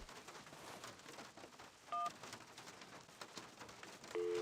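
Two short telephone keypad tones beep in the video game Syberia over soft rain ambience, the second tone a longer, lower beep near the end, with no talk.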